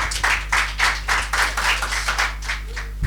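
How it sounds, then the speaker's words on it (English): School audience at a secondary-school competition claps in a loose rhythmic pattern, bright bursts of many hands striking roughly twice per second, close and fairly loud over a low steady hum, with no talking. "So let's put a round of applause for the girls."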